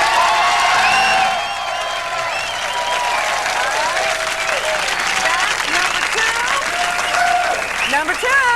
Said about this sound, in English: You applaud for your favorites as loud as you can.